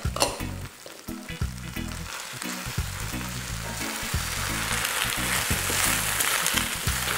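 Loud steady sizzle of mung bean sprouts and green onions frying in a hot pan for beef chow fun, with bursts of crackle and the clatter of stirring and tossing throughout.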